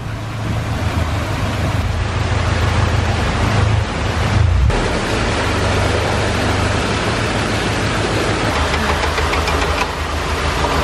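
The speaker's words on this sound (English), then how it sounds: "That is what you call a leaky lock" Water gushes through a leaky canal lock beside a narrowboat, a loud, continuous roaring rush of churning water with an engine rumbling underneath.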